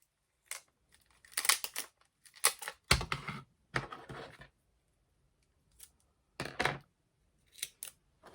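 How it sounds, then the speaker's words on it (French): Adhesive tape is pulled off a roll and pressed down on paper while building an impossible cube craft, giving quiet, scratchy tearing and crinkling bursts in irregular clusters, close up, with no talking. "je viens mettre mon scotch"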